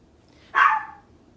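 A small dog lets out one short, sharp bark, close and fairly loud, rising out of a quiet room and fading within half a second.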